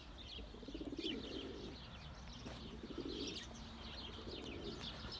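Breeding tumbler pigeons coo softly in a coop, low rolling calls repeating every couple of seconds with faint chirps and a brief wing flutter, quiet and close.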